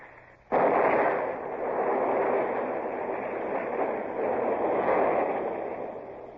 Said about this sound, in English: They've blown the magazine, sir.